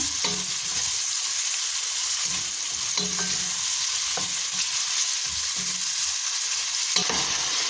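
Mushrooms fry with onions in a hot pan, a steady close sizzle with occasional scraping stirs breaking through the constant crackle.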